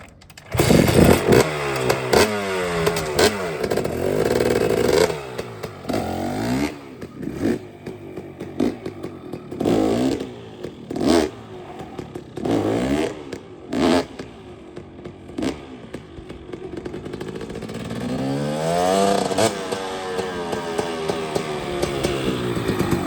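A 2-stroke dirt bike revs hard in repeated bursts as the rider lifts the front wheel into a wheelie and drops it back down, with a loud, close, buzzing engine rising and falling throughout.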